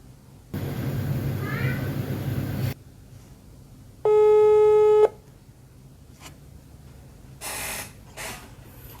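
A steady electronic ringback tone sounds for about a second amid quiet room noise, preceded by a burst of chatter and followed by faint beeps.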